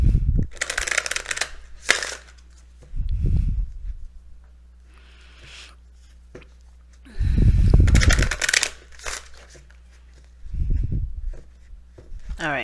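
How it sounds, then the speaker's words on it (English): Tarot cards are shuffled by hand in several separate bursts of crisp riffling, with quiet gaps between them and faint room noise. "Let me show you guys the shuffling."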